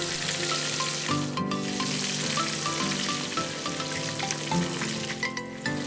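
Constant crackling sizzle of beer-battered prawns deep frying in hot oil, loud and busy, with a faint metallic clink now and then.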